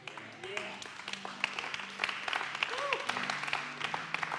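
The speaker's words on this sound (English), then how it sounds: "a golf clap for that?" A church congregation gives a light, sparse golf clap: scattered individual hand claps at a steady, moderate level, with a few vocal sounds mixed in.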